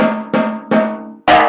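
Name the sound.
snare drum played with the snares switched off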